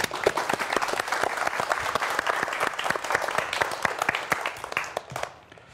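A studio audience at a televised science lecture on new materials and nanotechnology claps loudly to welcome the lecturer, a dense continuous round that tapers off near the end.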